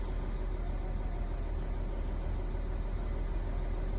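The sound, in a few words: Audi A6 3.0 TDI diesel engine running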